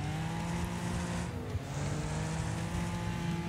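Car drifting around corners in the Wreckfest racing game, a steady loud engine drone with shifting revs and tire noise, continuous and close, with no talking.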